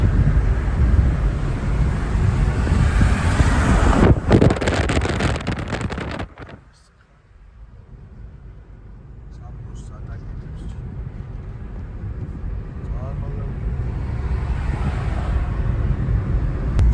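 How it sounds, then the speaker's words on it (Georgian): A car drives along a road with fresh oil just changed, giving a steady, loud broadband road and engine rumble with wind buffeting; the noise dips briefly midway and then builds back up, with people talking over it. "მოვდივართ ახლა გზაზე, მანქანა მოდის იდეალურად"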